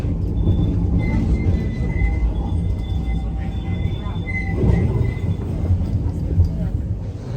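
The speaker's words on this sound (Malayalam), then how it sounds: "ട്രാം എടുത്തിട്ട് പോകണം ആ പാർക്കിൻ്റെ അടുത്തേക്ക് പോകാൻ." Riding a tram in Oslo, a steady rolling rumble fills the car, with thin metallic wheel squeals rising at times and voices talking over it.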